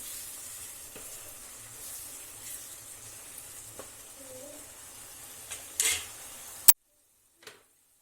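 Raw tomato puree cooking in oil in a pan, a steady low sizzle with occasional stirring scrapes and light utensil clinks, close and fairly quiet, ending with a sharp clack before near silence.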